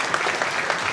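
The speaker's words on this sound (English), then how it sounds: "Let's give them a little round of applause." Audience applause at a school board of education meeting, honoring families; a short, steady burst of clapping from a room full of people, filling the whole moment without any voices.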